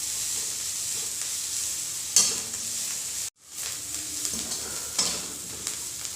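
A wheat flour and moringa leaf mixture is stir-fried in an open pan over medium to high flame, giving a steady hiss under repeated scraping strokes, with a brief dropout partway through before the sizzling resumes.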